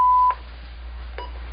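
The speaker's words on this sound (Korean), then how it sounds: "삐 소리가 난 후 녹음을 시작합니다" An answering machine sounds a single clean, steady electronic beep that cuts off after a moment, followed by near silence with a couple of faint soft knocks.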